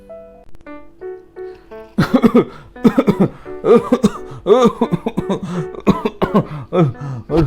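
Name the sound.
cough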